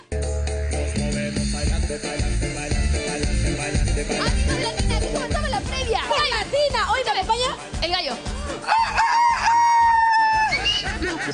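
A rooster crows several times in a TV football show segment, set against dense background music and loud studio sound, with repeated wavering crow-like calls in the middle and near the end.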